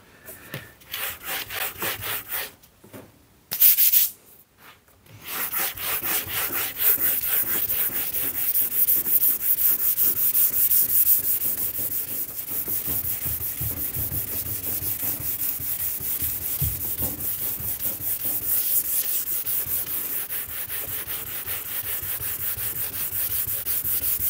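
A Scotch-Brite pad rubs back and forth over the lacquered wood of a subwoofer box, a close, continuous scratchy abrasive scrubbing with a couple of brief pauses early on.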